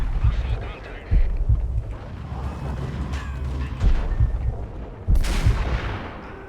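Sniper rifle and Beretta pistol shots in the game Max Payne, a few heavy, spaced reports thumping close over a dense rumbling backdrop of game ambience.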